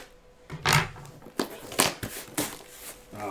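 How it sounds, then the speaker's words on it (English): Tape and cardboard flaps of a heavily taped shipping box being pulled open, a series of sharp tearing and crinkling bursts separated by short pauses, close and fairly quiet. "As soon as I open this box, they taped it up really good."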